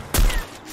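One sharp, close gunshot from the mobile shooter game Free Fire cracks loudly and decays over a fraction of a second, with no talking.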